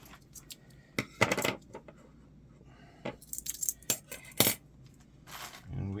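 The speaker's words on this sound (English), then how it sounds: "Grab some bits" Loose screwdriver bits clink and rattle against one another in a series of sharp metallic clicks and jingles, fairly faint and close, with short pauses between the bursts.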